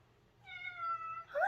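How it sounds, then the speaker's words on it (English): A single drawn-out meow from a black house cat, close and clear, rising at the end into a brighter upward cry, with no one talking. "This is the resident kitty."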